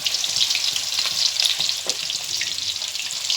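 Raw beef mince gola kebabs frying in a pan over a low to medium flame produce a bright, steady sizzle dotted with small crackles and pops, close and fairly loud throughout.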